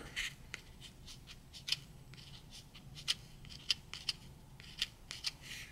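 A Boker tactical pen scratches across paper in short, irregular strokes, a series of faint close-up scrapes and ticks with brief pauses between them and no voice.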